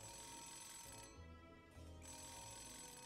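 A phone ringing inside the video game Nights of Azure, a steady electronic ring tone over a low game soundtrack, with one short break in the middle, fairly faint throughout.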